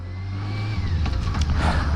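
A motorcycle cruising slowly on a December road, with a steady low engine drone and rising road and wind rumble, close and continuous, no speech.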